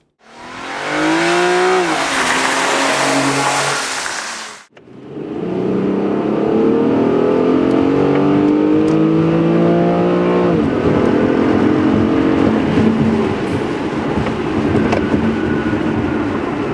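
An Infiniti G35x engine revs up loudly on a highway, shifts gear after a brief dip, then keeps accelerating with rising pitch and steady road roar.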